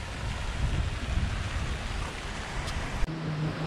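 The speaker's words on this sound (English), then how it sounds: "it's not only raining, but the wind is blowing very hard." Heavy rain and strong wind at a villa in Lonavala make a constant, broadband rushing hiss, fairly faint and steady, with a brief knock near the end.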